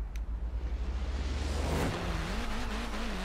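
A Renault Clio Williams races at night in Forza Horizon 4, its engine droning and rising in pitch as it accelerates, with a whooshing pass and faint tire noise.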